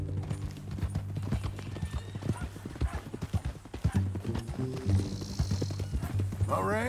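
Horse hooves clip-clop at a walk in Red Dead Redemption 2, a steady close rhythm over low hum, with a horse whinnying and background music underneath.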